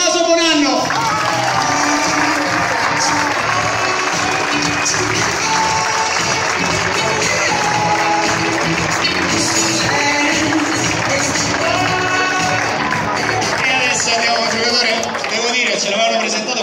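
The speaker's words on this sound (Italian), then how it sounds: "Facciamo un applauso a Tommaso Bonanno." A football squad presentation crowd applauds steadily and densely throughout, with mixed cheering and a voice talking over the clapping.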